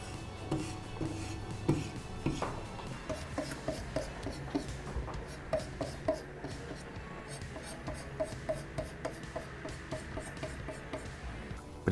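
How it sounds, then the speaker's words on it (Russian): Knife edge on a Profil K03 guided sharpener being polished with diamond paste, a repeated soft rubbing rasp in steady strokes, close and fairly quiet, no talk. "При помощи полировки алмазной пастой мы добились хорошего результата и блестящего подвода"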